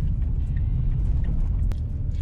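Renault Captur Iconic 1.3 TCe turbo car moving through traffic, a steady low engine and road rumble dominating throughout with a brief faint click near the end, no voices.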